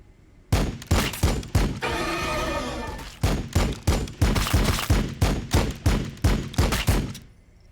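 Heavy bolter fire from the Warhammer 40,000: Battlesector video game, a rapid string of loud, punchy shots with a brief sustained burst in the middle, close and without speech.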